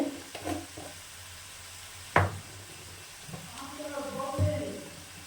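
A spatula stir-fries mashed green banana peel with salt in a pan over a low steady sizzle, with soft scraping and one sharp knock against the pan. Someone talks over it.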